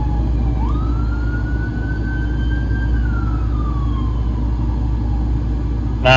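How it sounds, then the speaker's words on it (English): A single ambulance siren tone rises, holds and slowly falls as it passes, heard over a constant low rumble of traffic. "The ambulance is passing by."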